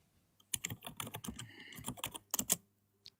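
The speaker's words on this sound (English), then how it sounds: "He's typing." Fast bursts of keystrokes on a computer keyboard, close and fairly quiet, a quick flurry of taps followed by a few final clicks after a short pause.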